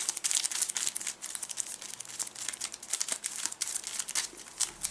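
A deck of Zombie In My Pocket print-and-play cards is shuffled, giving dense, close crinkling and riffling bursts that come in quick uneven flurries for several seconds, with no voice.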